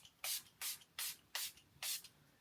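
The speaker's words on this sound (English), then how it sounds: "I'm going to be using the Vive Invisiveil setting spray" Vive Invisiveil setting spray is misted from a pump bottle at the end of a makeup routine, five short, soft, breathy hissing bursts in an even rhythm, close and clear with no talk.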